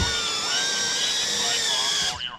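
An Emax Tiny Hawk 2 micro drone's motors spin up to full throttle with a loud, high-pitched whine, holding steady before dropping off sharply at the end.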